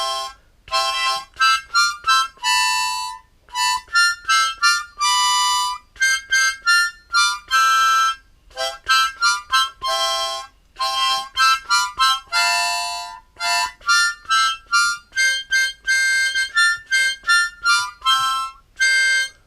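Jingle Bells is played on a harmonica as a bright solo melody of quick, clipped notes in a steady rhythm, with short breaths between phrases.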